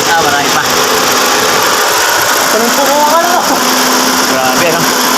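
A 2023 Honda Civic RS engine running steadily with a whining, high-pitched hum and some rattling, loud and close, with a voice speaking over it.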